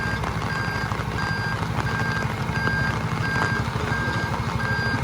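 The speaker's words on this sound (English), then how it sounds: "He's got it in reverse because you can hear the annoying little beep beep." A bulldozer's steady reversing beeps repeat at an even pace over the low rumble of its idling heavy engine, moderately distant.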